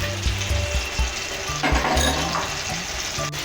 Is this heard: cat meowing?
no